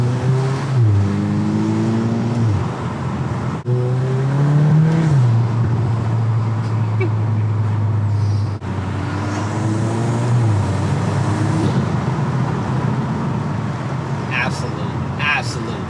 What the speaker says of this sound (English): this MST intake is really, really nice. It's a mature performance sound, and that inlet pipe is everything